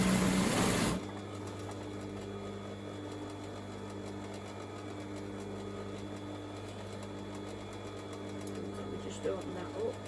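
A sewing machine runs a steady, continuous stitching hum while sewing a garment's crotch seam, starting after a brief louder burst and staying close and even throughout.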